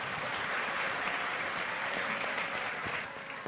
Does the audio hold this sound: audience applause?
yes